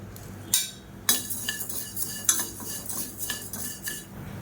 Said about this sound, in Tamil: மெஷரிங் கப்பில் அரை கப் அளவுக்கு துவரம்பருப்பு எடுத்துருக்கேன் இது வந்து நல்லா வறுத்துக்கலாம்